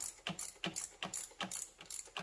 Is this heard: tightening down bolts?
yes